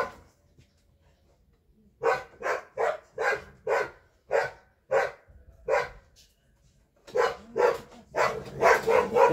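Several dogs barking in a home TV repair workshop, a steady run of loud, close barks from about two seconds in, with a short pause and then a denser, more excited burst at the end; no talking over it.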